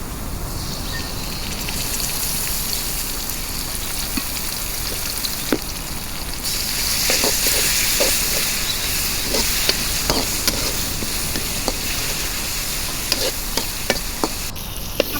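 Spices and chopped onions fried and stirred in a pan while cooking a spicy fried dish of beef head meat, giving a steady close sizzle with scattered scraping clicks of the spoon throughout, no talking.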